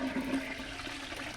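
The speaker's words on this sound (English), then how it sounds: "And now flush the toilet" A toilet flushes in the video game Chaos on Deponia, a close rushing gurgle of water that fills the whole moment with no talk.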